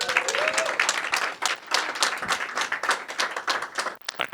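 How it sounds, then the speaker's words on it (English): A small audience at a media breakfast claps through a second round of applause, brisk and fairly close, with a short voice at the start and the clapping thinning out at the end. "Let's give him a second round of applause."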